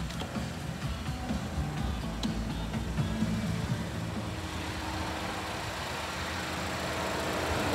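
A 2016 GMC Terrain SLE sits idling, its engine giving a steady, smooth low rumble that holds even throughout, with no voices over it.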